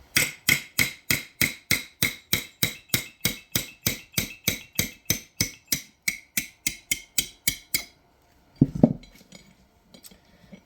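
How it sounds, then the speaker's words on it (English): A hammer drives a pin out of the clicker assembly on a Ski-Doo 900 ACE, with about twenty evenly spaced, sharp metallic blows close by. The blows stop and are followed by a brief clatter and quiet handling. "So now you just hammer it out."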